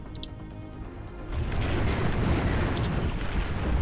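A unit self-destructs in the Beyond All Reason strategy game, setting off a loud, sustained explosive rumble that swells after a quieter start and carries on with crackling debris to the end.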